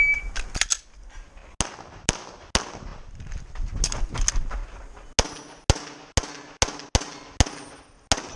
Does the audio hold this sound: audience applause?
no